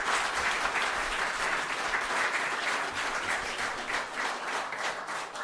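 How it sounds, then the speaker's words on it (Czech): A steady round of audience applause follows a folk performance by a cimbalom band and women's singing group, dense and even throughout at moderate loudness with no voices over it. "Můžete jim zatleskat, to jsou oni,"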